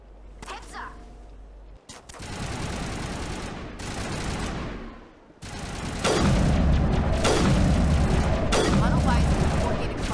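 Gunfire crossfire in the video game Mass Effect 1, loud rapid bursts of weapon fire and heavy booming shots, growing denser and louder, with voices speaking amid the shooting.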